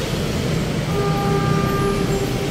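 A train approaches along España Boulevard, a loud, steady low rumble of rolling wheels and engine with faint tonal squeals over constant street noise, no talk.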